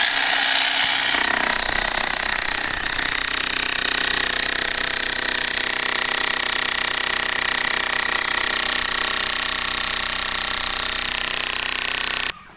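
An 11 kg electric demolition hammer runs loud and close without a break for about twelve seconds, a dense, rattling, broadband hammering that cuts off abruptly at the end.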